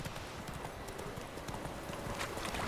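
Rapid, steady clip-clop of a horse galloping in The Witcher 3, hoofbeats loud and close under a dense layer of game ambience, with no talk.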